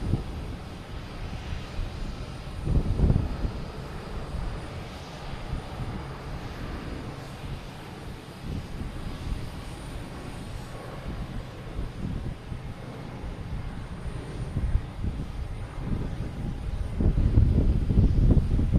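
Airliners at Logan Airport, a continuous low jet rumble from aircraft engines at a distance, swelling louder near the start and again at the end.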